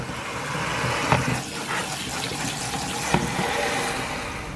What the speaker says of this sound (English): make sure you rinse those butter beans, okay? Rinse them really, really good.